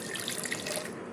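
Water is poured steadily while a leaf-wrapped rice cake batter is being made. The stream runs close and continuous with a bright splashing hiss, and no voices are heard.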